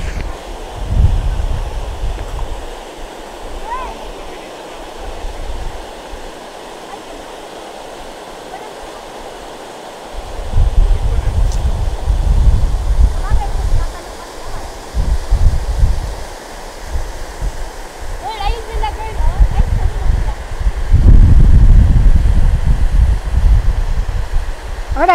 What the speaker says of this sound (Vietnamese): Ở đây gió rất là lớn nhưng mà gió mát các bạn, không có lạnh.